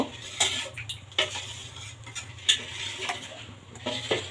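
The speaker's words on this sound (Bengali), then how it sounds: "এই যে ব্যাটারটা এভাবে একটু নাড়িয়ে চাড়িয়ে নিতে হবে নাহলে নিচে জমাট বেঁধে যাবে" Spoon scraping and clinking in a pan as thin pitha batter is stirred, irregular metallic taps about every half second over a faint low hum.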